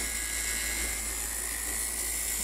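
A wood lathe spins steadily while a chess pawn is turned, giving a constant high-pitched whine over a low motor hum, close and unbroken.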